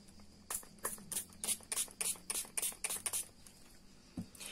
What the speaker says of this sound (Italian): vado a spruzzare un po' di intensive spray